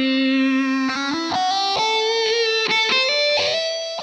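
An electric guitar played through a phaser effect on a Line 6 AMPLIFi practice amp rings out in a run of sustained, shifting notes, loud and close with no talking.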